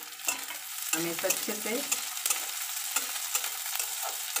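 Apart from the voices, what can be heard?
frying onion, ginger, garlic and green chili in a pan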